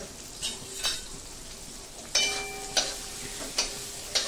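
Chopped onion sautéing in hot tempering oil with turmeric, a soft continuous sizzle broken by several sharp metallic scrapes and clinks of a spoon against the pan, close and without talk.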